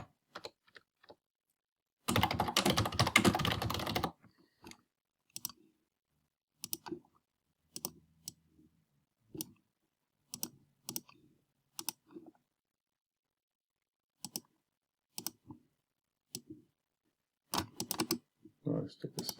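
Keys clatter on a computer keyboard: a dense burst of rapid typing, then scattered single clicks and short runs of keystrokes, close and quiet in an otherwise silent room.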